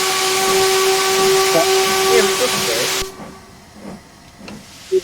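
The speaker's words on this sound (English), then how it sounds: "I wish they'd replace that whistle recording with something better." A steam-style locomotive whistle for the BLS D6515 in Train Sim World 2022 blows loud and steady with a hissing edge for about three seconds, then stops abruptly, leaving quiet rumble and faint voices.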